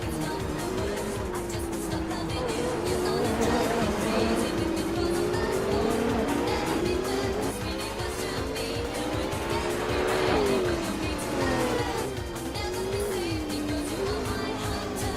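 Race cars lapping in a racing video game, including a McLaren P1 GTR, with a steady loud engine drone whose pitch rises and falls through gear changes and corners and tires squealing throughout.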